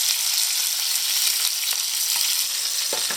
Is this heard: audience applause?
no